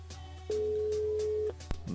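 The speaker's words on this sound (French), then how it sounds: "Dernière sonnerie" A single steady telephone ring tone sounds for about a second, clear and even, over a low hum and faint background noise on a radio broadcast line, with no answer following.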